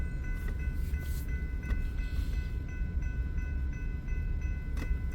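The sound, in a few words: BNSF freight train near a rail yard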